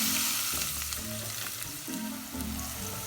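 Chopped garlic and green chilies hiss and crackle in hot vegetable oil with black pepper, a close, lively sizzle with bursts of spatter and stirring, no voices.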